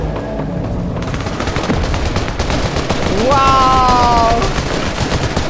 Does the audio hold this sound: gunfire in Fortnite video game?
yes